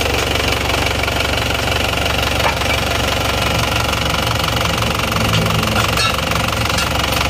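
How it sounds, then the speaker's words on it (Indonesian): A diesel engine runs just after a cylinder liner rebuild, producing a loud, steady knocking chug that continues unbroken at close range with no talk over it. "Oke, mesinnya sudah hidup, asapnya sudah bersih."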